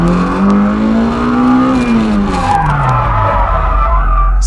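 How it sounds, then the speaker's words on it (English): A car drifting at Driftland with the e-brake held too long, letting it slide: a loud, continuous engine drone rising and falling with tire skid and scrubbing noise throughout, close and steady. "I'm pulling the e-brake too long, letting the car slide too much"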